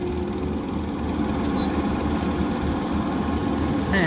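A Kubota excavator's engine runs steadily while it scoops quickly at a dump site, a continuous low droning hum with vibration at close range, with no talk.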